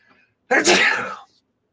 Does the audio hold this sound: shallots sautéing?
no